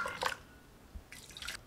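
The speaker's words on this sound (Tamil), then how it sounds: "இது கூட தேவையான அளவுக்கு தண்ணி சேர்த்துக்கலாம்." Water is poured into masala buttermilk, giving a few soft liquid drips and splashes in two short bursts separated by a quiet gap.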